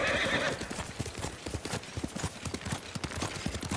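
A horse whinnies loudly at the start, then steady clip-clopping hooves of several horses trotting carry on close by in the samurai video game Ghost of Tsushima.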